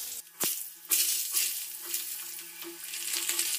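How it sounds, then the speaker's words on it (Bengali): Potatoes frying with salt alongside bay leaf, dried chilli, cinnamon, peppercorns, cardamom and cloves in a pan: close, bright sizzling with a few sharp spatula knocks and scrapes, rising and falling as they are turned. "আমি আলুগুলো ভালো করে নুন দিয়ে ভেজে নেব।"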